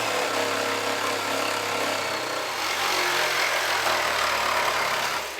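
A jigsaw cuts steadily through a cedar board clamped at waist height, a continuous loud buzzing rasp that holds for several seconds without pause.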